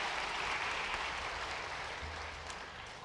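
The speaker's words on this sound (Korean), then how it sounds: "차례에서 일어나시면 큰 박수로 축하하시겠습니다" A church congregation applauds a newlywed couple during a Sunday worship service, a steady wash of many hands clapping together that sounds somewhat distant and fills the whole three seconds with no talking.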